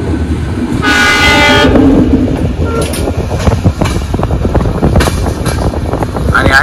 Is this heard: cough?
no